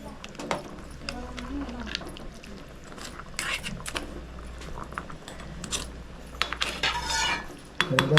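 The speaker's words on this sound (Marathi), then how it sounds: "पहिले मसाला ढवळून घेतो आपण" A metal spoon scrapes and clinks against a pot of crab curry masala in irregular bursts, fairly close, with a low steady hum underneath.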